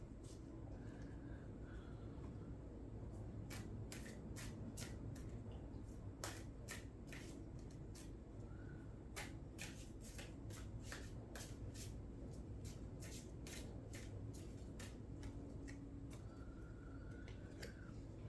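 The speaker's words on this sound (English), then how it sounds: "I'll pick a card and then I'll read" Tarot cards shuffled and drawn by hand, a soft papery riffle with bursts of sharp flicking snaps in irregular clusters over a steady low room hum, with no talking.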